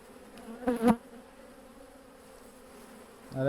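A quiet, steady hum of honeybees around a hive fills the background, with a brief louder buzz passing close early on and another rising at the end.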